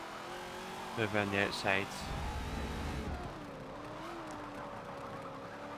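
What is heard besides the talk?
Mazda MX-5 convertible engine racing, from video game Forza 7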